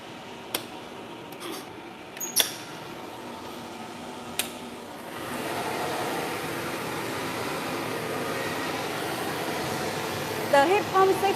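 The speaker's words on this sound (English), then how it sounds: "The heat pump system is at the bottom, and the hot air is blown out from the fan" Heat pump seafood dryer with its fan blowing hot air, a steady broadband whoosh that rises and stays constant partway through, preceded by a few sharp clicks and handling knocks.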